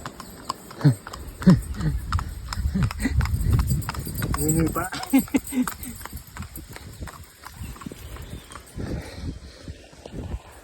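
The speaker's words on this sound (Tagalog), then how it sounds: "Mga yapak ng kabayo." Horse hooves clip-clopping near a rural province road on the way to Marilag Falls, a series of distinct knocking steps, loudest early and thinning later, heard under ongoing conversation.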